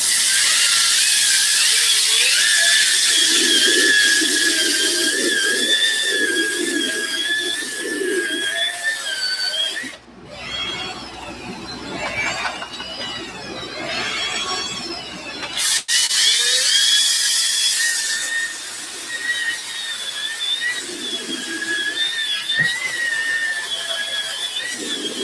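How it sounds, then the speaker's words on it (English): Powered stiff bristle brush dipped in cleaning solution scrubbing suede shoes, a high buzzing whine loud and close, dipping into a lower scrubbing noise midway before the whine returns. "I'm gonna dip my stiff bristle brush into the solution, rev it up a little bit, and we're gonna get to cleaning."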